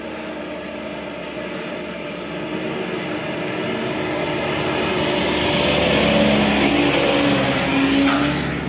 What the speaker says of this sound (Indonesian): suaranya terdengar nih, kelihatan truk.